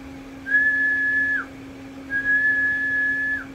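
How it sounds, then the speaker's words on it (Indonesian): Whistling used to test the power output of an audio amplifier: two long, steady whistled notes, each ending with a quick downward slide, over a constant low electrical hum. "Kalau kita siul, powernya akan seperti ini."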